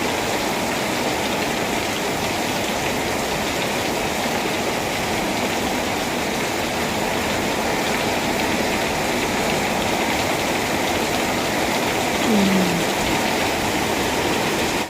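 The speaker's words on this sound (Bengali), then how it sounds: "এমন অদ্ভুত সময় বৃষ্টি নামলে কি করে হবে?" Rain falls steadily and heavily, heard from a balcony as an unbroken broadband hiss that stays even and loud with no voices.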